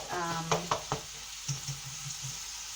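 A Thai vegetable curry simmering in a pan on a slow electric oven, a gentle close sizzle and bubbling with a few clinks and knocks, a faint tonal hum early on.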